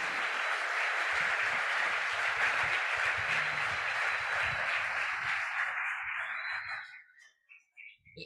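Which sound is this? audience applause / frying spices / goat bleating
audience applause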